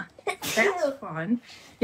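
A person sneezes once, sharp and close, in the middle of a conversation, with voices talking before and after it.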